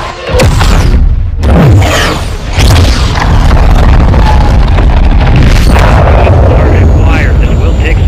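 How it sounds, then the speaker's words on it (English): Missile launch and explosion in Modern Warfare 2, heard as loud booming bursts, one early, another around mid-clip, over continuous rumbling battle noise and radio-style voices. "Missile is ready for immediate delivery. Stand by for launch."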